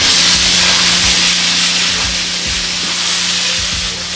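A snow foam lance with a spray arm blasts foam onto a car wheel and lug nuts, a loud, continuous hissing spray that splatters close by without a break.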